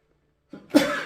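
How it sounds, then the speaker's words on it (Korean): A person sneezes once after a short breathy intake, ending in a sharp, loud burst that trails off into a brief rasp, with no speech. "재채기 나오려고 그래."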